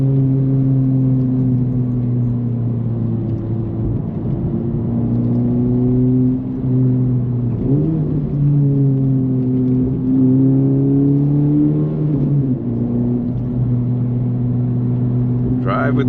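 A Honda Civic Type R FL5 pulls steadily out of a corner under throttle, its engine a smooth continuous drone that rises in pitch twice as it builds speed, heard from inside the car with no talking.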